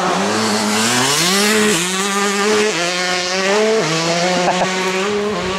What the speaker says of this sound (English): Excuse the motorcycles, let them pass